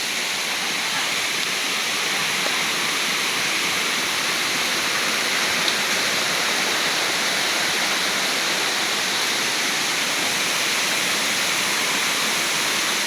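Yaganak Falls pours in a steady, loud rushing roar of falling water, an unbroken broadband wash with no talk over it.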